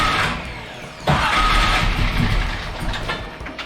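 A 427 small-block Chevy engine fired from a starter bump switch cranks briefly, catches with a sudden loud burst, then settles into a rough, throbbing idle close by.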